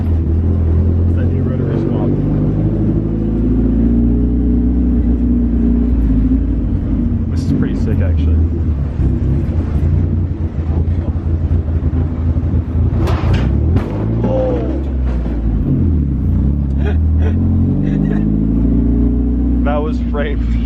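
A Toyota Cressida with a rotary engine swap drives over speed bumps, its low rumbling engine rising and falling steadily throughout while people talk inside the car.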